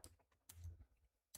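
Clicks from typing on a computer keyboard during a live stock trading session come in short scattered bursts, fairly quiet and close, with gaps of silence between them.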